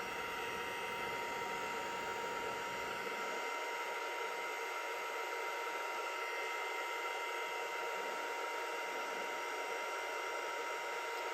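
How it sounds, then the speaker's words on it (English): A Stampin' Up heat tool on its lower speed blows a steady, soft airy hiss over cardstock, constant throughout with no voices. "on the lower speed of the Stampin' Up heat tool, you're not going to remelt the embossing powder"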